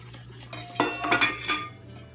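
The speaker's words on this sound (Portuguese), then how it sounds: "E bate bem. Vai sempre puxando assim das bordas, ó, para misturar todos os ingredientes." Spoon scraping and knocking around a bowl while mixing bread dough made with wheat flour, a few short clinks and scrapes close by over a low steady hum, with no talking.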